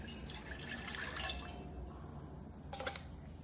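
Jaggery water poured into a bowl for ugadi pachadi, a close, soft trickling pour of liquid with light splashes, tapering off before a brief second dribble near the end.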